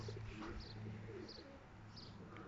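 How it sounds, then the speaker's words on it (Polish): Faint soft cooing of young, unfledged pigeons, low murmuring calls with a few light chirps over a quiet background. "To są gołębie jeszcze niespierzone."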